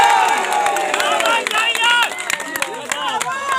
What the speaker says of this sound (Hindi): एक बार इनके लिए जोरदार ताली से हम लोग स्वागत करते हैं।